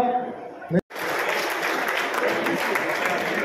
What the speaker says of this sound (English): Come on, continue clapping.